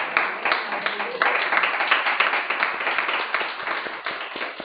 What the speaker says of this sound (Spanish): La palabra de Dios merece un fuerte aplauso esta mañana.